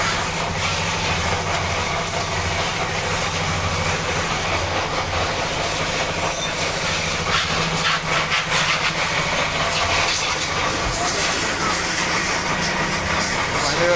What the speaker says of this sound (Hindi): पानी और जनरेटर वगैरह स्टार्ट हो चुका है